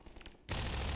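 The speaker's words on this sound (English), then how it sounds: "Oh, that was a grenade." A grenade blows up in the shooter game Half-Life 2: quiet ambience cut by a sudden, loud, broadband blast that fills the rest of the second.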